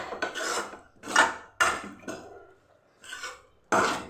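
A spatula scrapes and stirs a broad bean stir-fry with grated coconut in a pan, several separate close bursts of scraping with short pauses between them.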